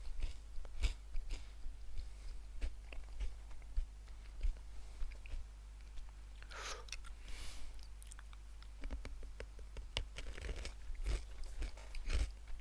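Crunchy peanuts are chomped close to the mic in a quiet room, with irregular sharp crunches and bites scattered over several seconds and a louder burst midway.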